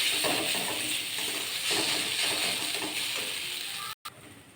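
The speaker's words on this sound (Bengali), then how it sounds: "ভালো করে ভেজে নেব।" Ginger-garlic paste fries with onions in a pan for a potato and pea curry, a steady close sizzling hiss that runs without break until it cuts out sharply near the end.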